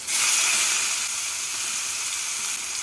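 Chopped onion frying in hot oil in a pan with black cumin and green chillies, a loud, steady sizzle with a sharp hiss at the start, no talking.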